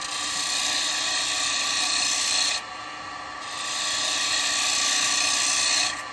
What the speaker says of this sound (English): you can see how I'm cutting with it.